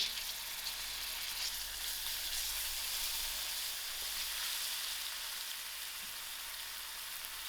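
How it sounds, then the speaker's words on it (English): Onions fry soft in a pan, giving off a faint, even sizzle and crackle that carries on without a break, with no talking over it. "I will allow these onions to fry out soft."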